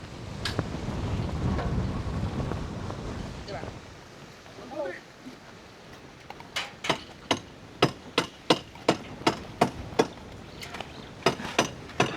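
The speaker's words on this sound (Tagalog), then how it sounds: "Grabe humangin na" Strong wind gusts buffet loudly at the start, then ease as a series of sharp, evenly spaced metallic hammer strikes rings out at a construction site, with people speaking in between.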